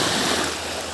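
Surf breaking along the Pacific shore near Vladivostok, a steady broad wash of waves close by with no voices.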